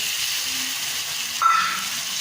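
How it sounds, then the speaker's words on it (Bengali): Masala and chopped tomatoes frying in a pan for a spicy chicken curry, giving a continuous even sizzle with a short squeak of the spatula partway through. "আবার মশলাটাকে ভালো করে কষবো। টমেটো যতক্ষণ না গলে যায় ভালো করে কষতে হবে।"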